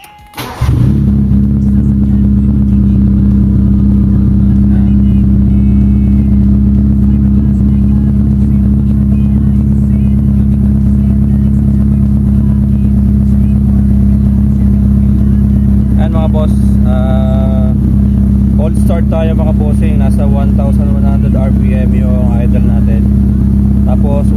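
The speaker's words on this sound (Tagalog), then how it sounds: "start tayo ng engine" Car engine with a weak, low-power motor and a newly replaced oil sending unit starts abruptly and settles into a loud, steady idle rumble close by, with someone talking over it in the latter part.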